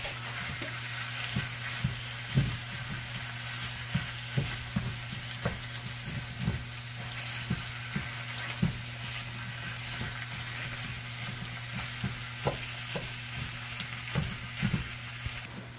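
Ground beef fries in oil in a pan for shepherd's pie, a steady faint sizzle with scattered soft pops and stirring clicks, under a constant low kitchen hum.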